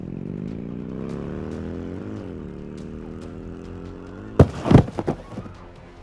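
A motorcycle engine revs in a steady drone that climbs and dips for about four seconds, then sharp, loud impact bangs and clatter cut through near the end.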